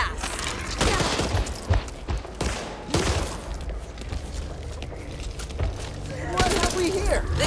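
Gunfire in the Back 4 Blood video game comes in bursts and scattered shots amid action sounds and footsteps, fairly loud, with voices talking in between.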